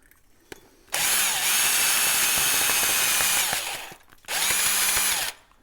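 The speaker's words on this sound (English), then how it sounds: "I'm going to get a little wire brush drill." A power drill spinning a wire brush cleans a rear brake on an MG ZT or Rover 75, grinding steadily for about three seconds, then a shorter second run after a brief pause, close by.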